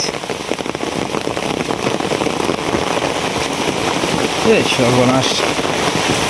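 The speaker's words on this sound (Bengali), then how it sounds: "এইভাবে বৃষ্টি বাদল হইলে কি ভাই" Heavy rain pours down on open fields along the paddy ridges, a dense, even hiss throughout, with a man briefly exclaiming over it.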